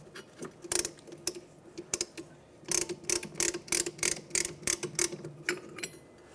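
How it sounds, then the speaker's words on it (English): A brake caliper compression tool is released during a rear brake job on a 2011-2017 Honda Odyssey, producing a run of sharp mechanical ratchet clicks, sparse at first, then quicker and louder, heard close up in a quiet garage. "now we can release our compression tool"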